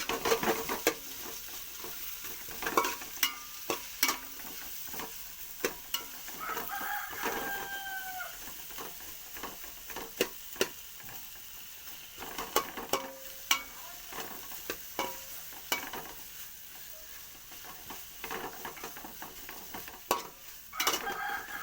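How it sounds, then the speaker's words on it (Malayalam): Onions being sautéed in a pan for a curry: a steady close sizzle with repeated stirring scrapes and taps against the pan, and a rooster crowing faintly in the background partway through. "നന്നായിട്ട് വഴറ്റി കൊടുക്കണം."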